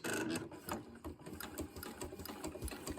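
A sewing machine runs in quick bursts as it stitches a quilt seam during chain piecing, the needle's rapid mechanical chatter close and fairly quiet.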